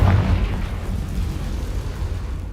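A Confringo spell explodes in the Hogwarts Legacy game with a loud burst at the start, then a deep rumbling decay that fades out with no talk.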